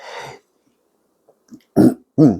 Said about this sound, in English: let's just clear my throat there